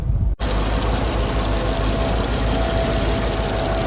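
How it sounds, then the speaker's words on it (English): A Land Rover Discovery with a 3.9 V8 injection engine idling on LPG, recorded up close under the open bonnet as a loud, steady low rumble with an even throb after a brief cut at the start. "injection engine running on LPG there"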